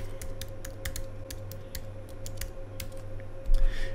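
Steady typing on a computer keyboard as a folder name is entered, crisp evenly spaced key clicks close to the mic over a constant low electrical hum, with no voices.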